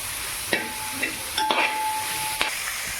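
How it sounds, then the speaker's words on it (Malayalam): Onions and green chillies fry in a pan for a chicken curry, giving a steady close sizzle with several scraping stirs of a spoon at irregular intervals and no speech. "സവോളയും പച്ചമുളകും ഇട്ട് കൊടുത്ത് നമുക്ക് നന്നായിട്ട് ഇളക്കി കൊടുക്കാം."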